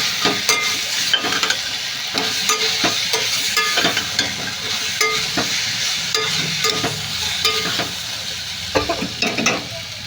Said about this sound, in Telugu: అన్నీ ఫ్రై అయ్యేటట్టు మగ్గిపోవాలి